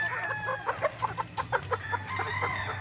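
Backyard chickens, ready-to-lay pullets, cluck in a quick run of short rhythmic calls, fairly close, with a faint crow-like note and steady low background hum; no talking.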